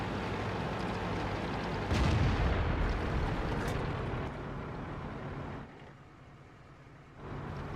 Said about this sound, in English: Big gun makes big boom.